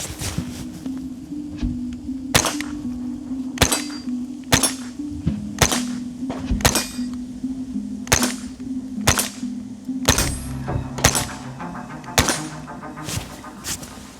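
Sharp, loud gunshots from a Winchester Wildcat rimfire carbine fire one after another at irregular intervals, about a dozen cracks over a steady low mechanical hum.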